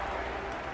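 Thunderous applause from a large convention crowd greeting Hillary Clinton at the Democratic National Convention, a dense, steady roar of clapping filling the whole moment without a break.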